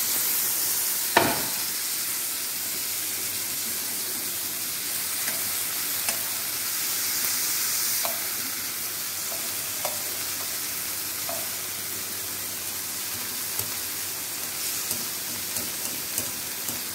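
Fish fillet fries in butter in a pan over high heat, giving a steady close sizzle and hiss with a few faint clinks and scrapes and one sharp knock near the start.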